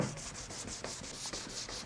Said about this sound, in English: We'll need to get my little sanding block.